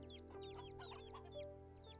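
Chickens cluck and chatter in a farmyard inside the online game Black Desert Online, a dense run of short clucks over a steady low hum of game ambience, with no talk.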